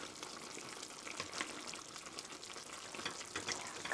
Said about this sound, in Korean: 이렇게 한번 저어주시고요